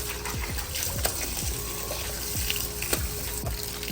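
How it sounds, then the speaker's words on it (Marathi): Water runs steadily from a tap near a beach in Goa in a continuous rushing stream, with a series of dull low thuds spaced through it. "इथं असा नळ आहे"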